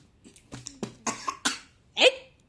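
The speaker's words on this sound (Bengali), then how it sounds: "খাওয়ার পরে কাশি উঠে গেল" A person coughs after eating, a short run of several close coughs and throat-clearing bursts, ending with one louder, harsher cough.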